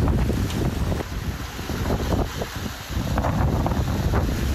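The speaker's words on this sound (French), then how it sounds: "Au Texas, il y a beaucoup de vent." Strong Texas wind buffets the microphone in loud, rumbling gusts that swell and ease, with no voices.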